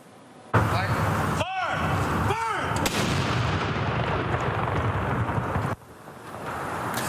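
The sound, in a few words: 21-gun salute, ceremonial firing of blank artillery rounds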